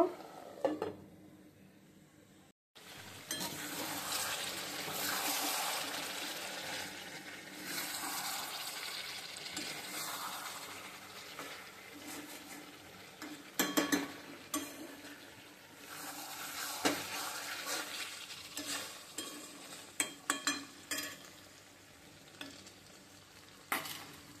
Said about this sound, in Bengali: এখন ঢেকে ঢেকে ভালো করে কষিয়ে নেব।